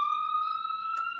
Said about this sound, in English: this ambulance is passing by